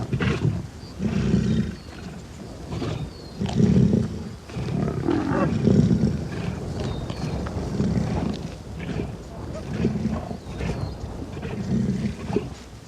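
A starving lioness growls low and rumbling as she feeds during a severe drought, repeating in deep pulsing bursts over a constant rough background for about thirteen seconds.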